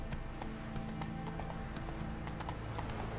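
Hoofbeats of the horse Roach galloping in the video game The Witcher 3, a steady rapid clip-clop rhythm that runs the whole time under a constant game soundscape, with no voices.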